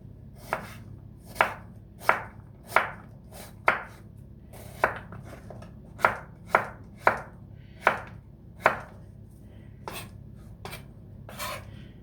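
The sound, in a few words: chopping onions into thin slices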